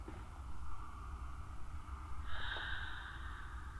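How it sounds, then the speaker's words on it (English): Heavy, rasping breaths drawn in and out at a slow rhythm, fairly close, over a low steady hum, in the video game Amnesia: A Machine for Pigs. "Hearing some weird, heavy breathing noises that are not from me."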